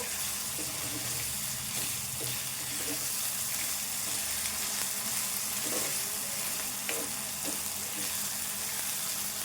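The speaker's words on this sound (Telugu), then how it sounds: "ఈ మిరపకాయలు ఈ ఉల్లిపాయలు ఇట్లా గోలాలి" Green chillies and onions fry in a pan with oil for a Telugu ivy gourd egg curry, a constant close sizzle with occasional scraping and stirring knocks, while quiet speech comes and goes underneath.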